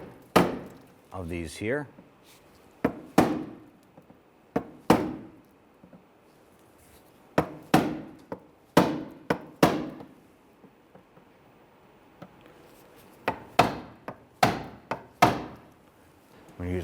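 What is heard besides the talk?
punch knocking out centers of plastic push pins on Jeep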